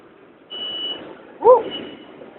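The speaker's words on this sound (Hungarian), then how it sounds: "Még csipog is." Electronic beeping signal on the M4 metro line, a sustained high tone followed by a brief two-note chime amid quiet ambient noise.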